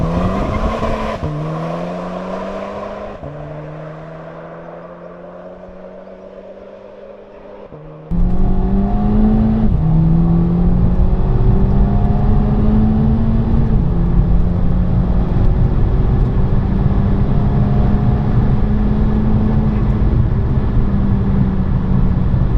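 A VW Golf GTI mk5 fitted with a KO4 turbo pulls through its gears. The engine note climbs, fades slightly, then surges into a loud, sustained drone whose pitch rises and levels off through each gear.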